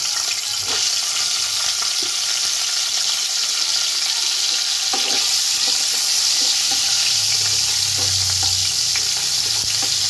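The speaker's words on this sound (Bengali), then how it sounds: "এগুলো একটু লাল লাল, কপিগুলো আমার লাল লাল ভাজা হয়ে গেছে।" Cauliflower florets fry in oil with a loud, steady sizzle that fills the whole stretch, with a few soft clinks and stirring scrapes and no talking.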